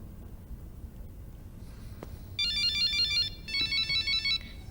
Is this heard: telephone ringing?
yes